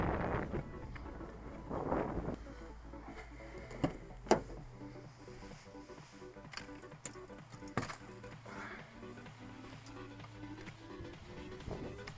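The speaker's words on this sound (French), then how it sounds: "Donc il y a beaucoup de vent." Strong gusty wind buffets the microphone of a Mini Talon FPV drone in rumbling bursts, joined by sharp clicks and a rising mechanical whine, with no talking.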